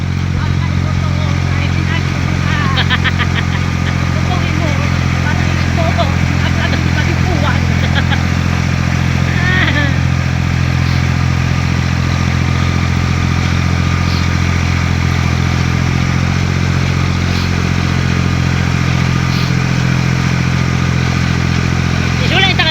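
A motorcycle engine runs steadily throughout with a low droning hum, faint clatter and occasional voices in the background.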